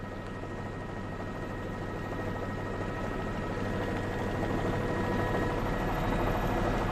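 A news helicopter hovers over an apartment complex fire in Oklahoma City, its steady rotor and engine drone filling the sound as a constant dense roar that grows slightly louder, with no voices.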